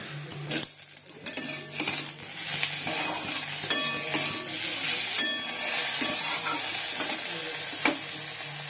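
Onions frying with chopped tomatoes in a pan, loud steady sizzle throughout with repeated metallic clinks and scrapes of a spoon stirring against the pan, close up and without talk.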